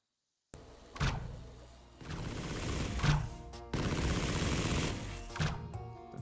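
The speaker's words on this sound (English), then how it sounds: "cannon shot." Mass normal destructor cannon in the Yupitergrad 2 VR game fires several heavy booming blasts after a brief silence, each followed by sustained rumbling, with loud bursts near one, three and five and a half seconds.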